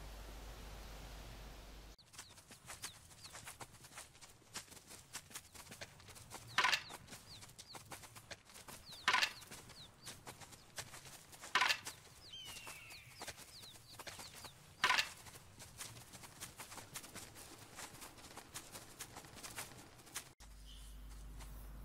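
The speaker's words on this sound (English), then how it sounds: "there's one last sound these ibex make that is not audible with your hunter mate, and that's the chirping sound" An alpine ibex in the hunting game theHunter Classic gives sharp, spooked chirps, four loud bursts spaced a few seconds apart over a faint, rustling outdoor background.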